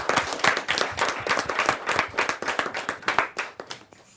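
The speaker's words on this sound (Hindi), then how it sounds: "जोरदार ताली के साथ हम उनका स्वागत" An audience at a Hindi poetry gathering claps loudly in welcome, individual claps distinct in a brisk, uneven rhythm that rises and falls over a few seconds.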